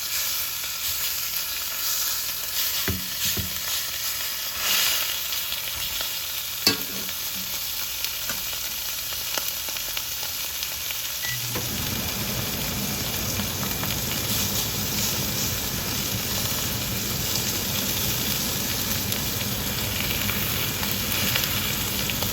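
A ribeye steak sizzles over a charcoal grill, a steady crackling hiss that swells into a louder, denser sizzle about halfway through and continues without talk.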